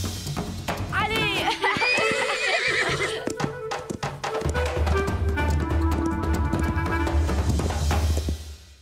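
A cartoon horse gives a loud whinny, followed by quick clip-clopping hooves over a rumbling bed of music and effects, all close and full.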